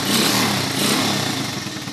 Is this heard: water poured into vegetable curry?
no